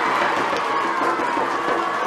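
A large crowd roars and cheers continuously at the Ulster Schools McCormack Cup Gaelic football final, a dense, loud wash of voices and applause that holds steady throughout.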